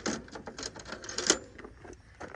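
Wrenches tightening bolts on the rear passenger-side hood support brace of a 2007 truck make quiet, rapid clicking and ratcheting in uneven bursts, close by.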